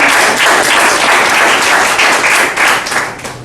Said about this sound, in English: You should honestly give yourself a big round of applause.